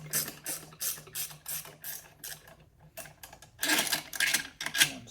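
A ratchet clicks in rapid bursts while the clutch is worked on a JAWA 350 motorcycle during a barn-find restoration, close and crisp, with short pauses between runs of clicks and a louder stretch near the end.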